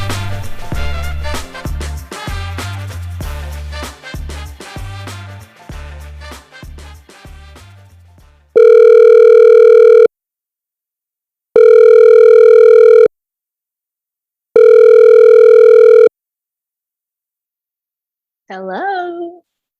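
A telephone dial tone before a call sounds as three long, steady, loud tone bursts separated by silences, following a busy musical intro and ending with a brief voice.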